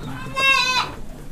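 A single Boer goat bleats once in a goat pen in Pacitan, a clear, nasal, wavering call lasting about half a second amid quiet barn background.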